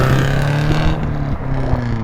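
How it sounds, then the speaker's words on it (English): A noisy truck passes close by with a loud, steady engine drone and a gruff low rumble that carries through the whole moment. "There's always a noisy truck."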